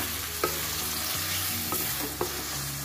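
Beef trotter skin (kikil) stirred with tempeh frying in a pan, a steady close sizzle with occasional spatula clacks and scraping, no talk.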